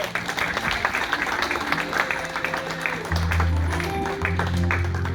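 A church congregation bursts into applause to acclaim Jesus Christ, dense clapping and crowd noise filling the room steadily for several seconds, with voices mixed into the din.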